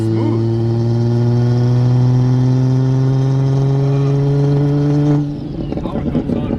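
A fully built BMW N54 with a single turbo accelerates hard, its engine drone loud and close with rising harmonics for about five seconds before the note drops off and people start talking inside the cabin.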